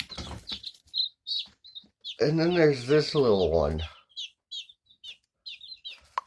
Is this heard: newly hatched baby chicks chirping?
yes